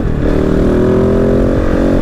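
Kove Dakar rally motorcycle engine revving loud and close, a steady harmonic drone as the rider drops a gear into a drift on dirt, with clattering and scraping underneath.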